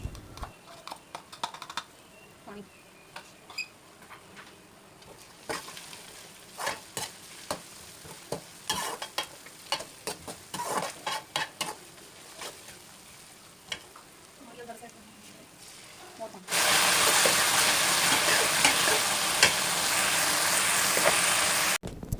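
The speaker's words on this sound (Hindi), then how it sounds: "तो मैंने प्याज और गरम मसाले एक साथ डालकर उन्हें फ्राई करने के लिए रख दिया।" Sliced onions and garam masala, including cardamom and cloves, fry in a pan while a spoon stirs. Close scraping strokes and crackling run for most of the stretch, then a loud, dense, continuous sizzle takes over near the end.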